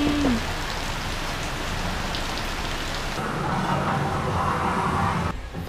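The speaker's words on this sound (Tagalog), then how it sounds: "It's raining." Steady rain falls outdoors near some garden plants, a dense even patter on surfaces close by. The hiss swells a little louder toward the end, and no one speaks.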